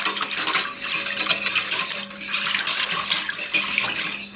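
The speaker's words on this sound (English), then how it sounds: "Got a little whisk action going here." A whisk clatters rapidly and rhythmically against a bowl, a close, busy metallic scraping with short pauses, heard alone.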